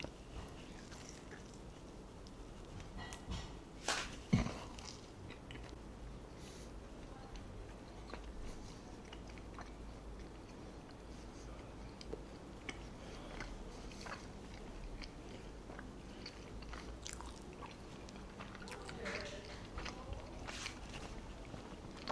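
Someone bites into and chews a ham and cheddar puff pastry toastie made in a sandwich press, with a few crisp crunches early on, then soft, intermittent chewing close to the mic and occasional light noises.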